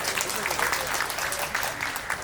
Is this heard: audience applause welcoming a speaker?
yes